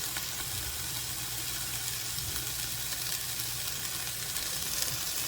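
Onions for a burger sizzle steadily in a pan, a continuous soft crackling hiss at moderate distance with no voices.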